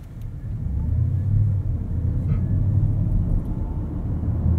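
A 2024 BMW 750e xDrive plug-in hybrid sedan accelerates at full throttle, heard from inside the cabin as a steady deep engine rumble and road roar that holds loud with slight dips at gear shifts.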